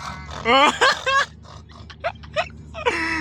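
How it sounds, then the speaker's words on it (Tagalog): Pigs grunt and squeal close by in short, irregular bursts, with quieter snorts in between. "Mga baboy nakakulong. Ah! Bakit may baboy?"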